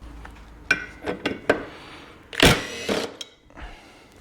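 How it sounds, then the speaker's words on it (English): Bolts being undone on a Mazda RX2 wheel hub: a few metallic clicks and clinks of a tool on metal, then a louder scraping rattle, close up and without talk. "So what I've got to do now is undo these bolts, pull the bolts out of it, pull the disc off it."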